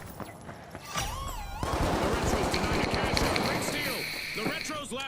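Shotgun blasts and other gunfire in the video game The Finals, with chaotic combat noise, explosions and people talking over the action throughout.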